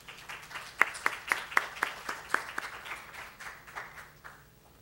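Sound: audience applause

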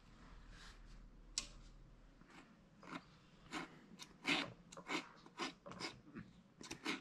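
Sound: cutting the wire of a figure's leg

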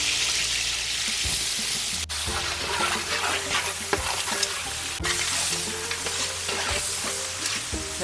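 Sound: frying and stirring spiced tempering (bagara) in a large pot

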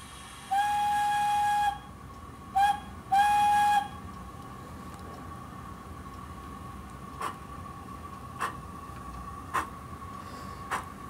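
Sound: model passenger train locomotive running on layout

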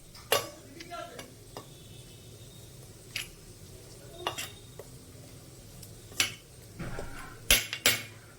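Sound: stirring garam masala into a spice mixture

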